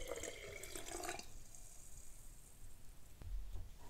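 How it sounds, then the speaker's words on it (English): Homemade hydrosol poured from distilling kitchen equipment into a glass mason jar, a short trickling pour at the start followed by quiet and a soft clunk. "I'm going to pour the Hydrosol in this mason jar."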